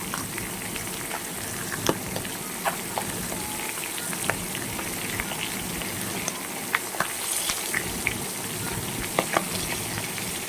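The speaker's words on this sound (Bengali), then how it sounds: "এবার আমি মাছগুলো ভালো করে ভেজে নেব।" Pangas fish sizzles in hot oil with a steady, close hiss and scattered pops and crackles throughout.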